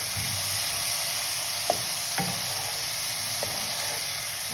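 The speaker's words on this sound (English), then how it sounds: "Give it a nice stir." Egg curry frying in a pan, a steady broadband sizzle running throughout, punctuated by three distinct stirring scrapes and clinks of the spoon against the pan at irregular intervals.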